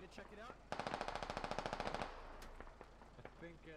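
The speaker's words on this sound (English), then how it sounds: "Someone's taking shots at me." In the military shooter game Squad, a rapid burst of automatic gunfire rattles for over a second, fairly close, with voices talking before and after.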